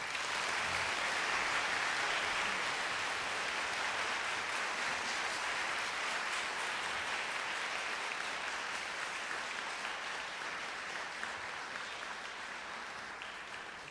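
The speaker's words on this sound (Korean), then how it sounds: "큰 박수로 맞이해주시고 힘주시기 바랍니다." A concert audience gives sustained, dense applause, a steady roar of many hands clapping that stays even throughout and tapers slightly at the end.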